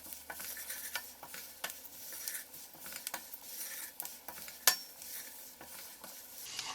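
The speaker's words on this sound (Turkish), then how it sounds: "Çok az bir şey daha karıştırıyorum şöyle" Salted basmati rice stirred in a pot, soft scraping strokes and light clinks repeating over a faint sizzle, close but quiet, with one sharper knock near the end and no talking.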